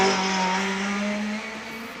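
A 2.6 litre Chevette rally car at the Shelsley Walsh hill climb roars past at high revs, a loud sustained engine note holding steady and then dropping in pitch and fading slightly as it pulls away.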